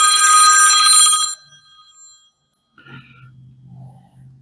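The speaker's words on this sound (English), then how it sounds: "silence my phone." Loud, close telephone ring lasting just over a second that cuts off abruptly and leaves faint rustling and low muffled sounds behind.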